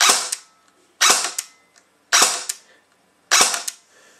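A Dboys AKSU airsoft AEG fitted with a Sima high-torque motor and a 9.6 V NiMH battery fires four short, sharp bursts about a second apart, each a loud snapping volley with quick decay and nothing in between.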